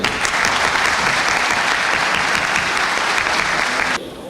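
Sustained applause from a large crowd for graduating students, dense and steady, ending abruptly near the end and dropping to quieter room noise.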